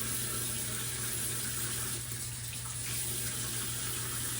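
Tap water runs steadily to wet hair during a wash and go routine, a constant close hiss and splash with no speech over it.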